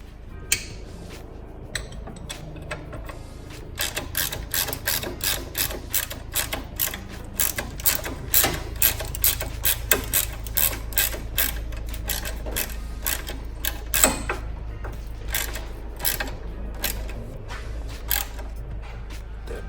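A ratchet tightens a bolt while installing a Koni Heavy Track shock absorber on a Montero, producing a rapid series of close, loud clicking pawl strokes in steady bursts with no talking.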